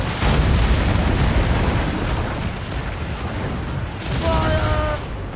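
Naval cannon fire in an Assassin's Creed Rogue ship battle rumbles as heavy, booming blasts that fill the scene, with a brief tonal shout near the end over the continuous roar.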